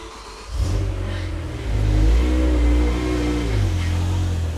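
A repaired, previously totaled BMW M5 engine cranks and catches, then revs up in a deep, loud, close burst before settling to a rough rumbling idle with small blips.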